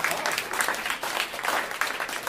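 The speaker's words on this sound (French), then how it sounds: "Hey, on peut les applaudir quand même." An audience at a masterclass applauds young cornet players with close, steady clapping that stays loud and even throughout, with no speech over it.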